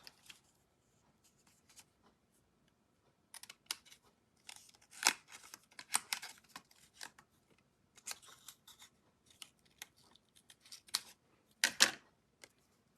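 Scissors snipping paper grass shapes for a handmade card, in irregular bursts of quick close cuts with paper rustling between them and short quiet pauses.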